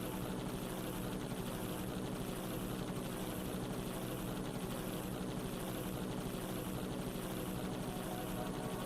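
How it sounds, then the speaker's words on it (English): An autopilot helicopter in flight from the video game Danganronpa: Another Despair Academy, a steady, loud rotor drone with rhythmic blade chop running without a break, no voices over it. "I'm glad it's an autopilot helicopter."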